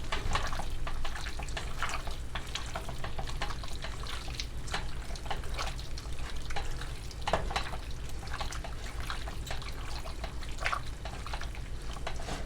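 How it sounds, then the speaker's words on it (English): Ingredients for beef pepper steak being mixed by hand in a bowl: a steady, close, wet squelching and sloshing that continues throughout with small irregular splashes. "I'm just gonna mix this up"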